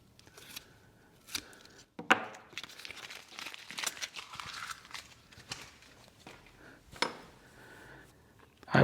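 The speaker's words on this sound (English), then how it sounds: "Let's pull the tape off." Tape peeled off a silicone mold in several tugs, sharp crackling rips and crinkles with pauses between them, close and moderately loud, no speech.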